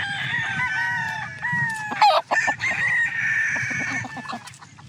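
A claret gamefowl rooster, an early-bird cross with a straight comb, crows loudly and close in a long drawn call, with clucking and other fowl sounds around it and no talk.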